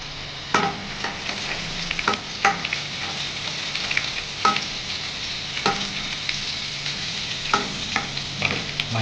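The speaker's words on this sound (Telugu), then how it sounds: "దాని తర్వాత వెల్లుల్లి కూడా వేపుకుందాము." Garlic fries in a pan for gongura chutney with a steady, close sizzle, broken by regular scraping taps as a spatula stirs it.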